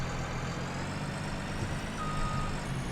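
Faint reversing beeps from a forestry vehicle in the Farming Simulator game, a steady electronic tone sitting under a dense, continuous engine rumble with no voices.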